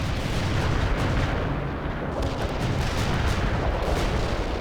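Continuous artillery fire rumbles in the World in Conflict strategy game during a Soviet assault: heavy overlapping booms and distant blasts roll together into a loud, dense barrage with no clear gaps.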